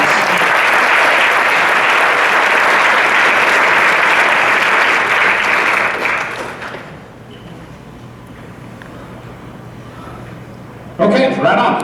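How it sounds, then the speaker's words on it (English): Audience at a high school band pops concert breaks into loud, sustained applause that fades out after about six seconds, leaving quiet room tone before a short burst of sound near the end. "Good round of applause"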